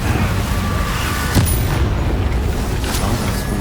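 A Confringo blasting spell goes off in the Hogwarts Legacy video game, a single sharp boom bursting out near the middle of a dense, constant wash of game noise and music.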